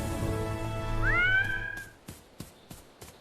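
A cartoon cat character lets out a single rising, drawn-out meow over a busy cartoon soundtrack, followed by a few sharp, evenly spaced clicks or taps.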